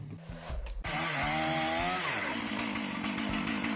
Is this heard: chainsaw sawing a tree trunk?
yes